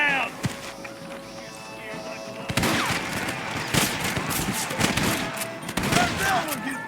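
Rapid gunfire in the Red Dead Redemption game during a shootout with rustlers, dense bursts of shots ringing out over several seconds alongside horse hooves and shouting voices.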